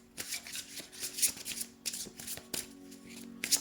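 Tarot cards are shuffled by hand for a reading, a run of soft riffling bursts and papery slaps in an irregular rhythm, close and quiet with no voices.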